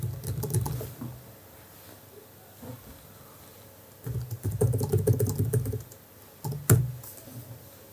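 Typing an IP address on a computer keyboard, a quick patter of clacking keystrokes in irregular bursts separated by short pauses, close and moderately loud, with no talk over it.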